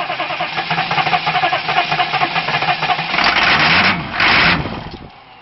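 An engine with a freshly repaired injection pump cranks with a rhythmic, chugging starter beat, then catches in two brief, loud surges before dying away.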